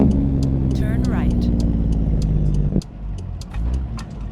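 A CAT C15 truck engine with turbos, modded into a truck driving game on a W900, drones steadily and loudly with a low exhaust rumble and turbo whine, easing off near the end, while someone talks over it.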